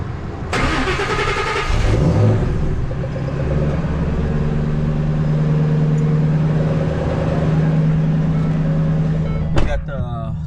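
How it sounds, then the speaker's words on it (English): A Ford Mustang Mach 1 engine with a Corsa Sport exhaust cranks and catches on a cold start, then runs loud and steady with a low rumble and rising revs, ending in a short clatter. "We'll get this car turned on for you guys right now in a second"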